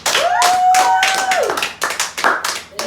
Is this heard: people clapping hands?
yes